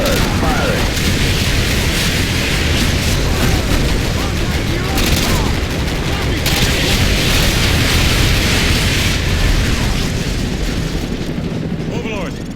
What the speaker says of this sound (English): call in artillery on those vehicles. Mission received. Artillery inbound.